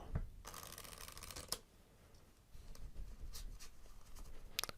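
A deck of cards is riffle shuffled close by, with a quick fluttering burst of cards followed by sharp taps and further soft shuffling.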